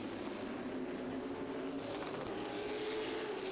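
Race cars circling Southside Speedway, a steady distant engine drone that swells slightly as the pack passes, continuous with no talking.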